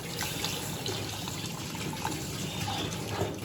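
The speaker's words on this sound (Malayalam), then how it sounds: "ഇനി നമുക്ക് പാല് വെക്കാം" Long-life milk pours in a steady, close stream for a homemade cheesy pizza recipe, a continuous liquid splash lasting a few seconds with no voices.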